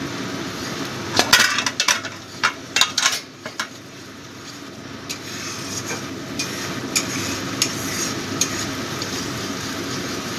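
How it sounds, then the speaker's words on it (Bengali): Onion paste frying in oil for a Bengali tel koi fish curry is stirred with a metal utensil: a burst of sharp scraping clinks against the pan early on, then a steady low frying hiss with a few scattered clicks. "ভালো করে কষিয়ে নেব।"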